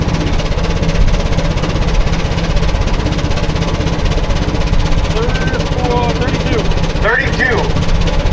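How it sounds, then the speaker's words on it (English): A Gaar Scott 25-75 double cylinder steam traction engine running on a prony brake, a loud, steady mechanical chugging with a continuous low rumble and a brief whistle-like tone near the end. "That is a unique sound of a double cylinder steam engine."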